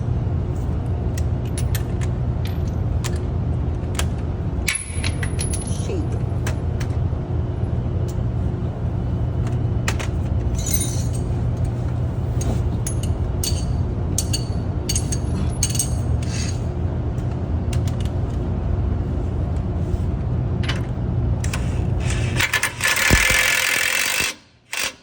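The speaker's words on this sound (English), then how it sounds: "Go ahead and hit it with the socket." A socket tool on the suspension of a 2024 Ford F-150 during a Ridetech spherical bearing replacement, giving a steady mechanical whir and rattle with repeated clicks and creaks, close and loud throughout, ending abruptly.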